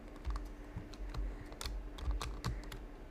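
Computer keyboard keys pressed repeatedly while playing a hunting game, a quiet run of irregular clicks and taps close by, no speech.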